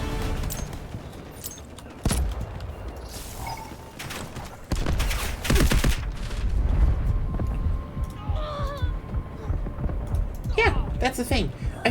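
Artillery barrage in the video game Delta Force Hawk Ops, a string of heavy booms and blasts arriving irregularly across the battlefield, some close and loud, others more distant, with a voice speaking throughout.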